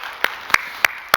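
A church congregation applauds its teachers during a Sunday service, a few distinct, evenly spaced claps ringing out clearly in a reverberant hall.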